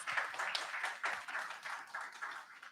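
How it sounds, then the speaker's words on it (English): An audience claps for a gender issues committee at an event, a dense, even patter of many hands held for the whole stretch, slightly distant and fairly quiet. "Give them a round of applause."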